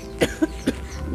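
Three short, sharp coughs in quick succession, close and fairly loud, with no talking.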